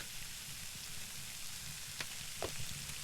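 Food sizzles softly over a campfire barbecue at night in the SCUM survival game, a faint, steady crackle with a couple of brief sharper pops.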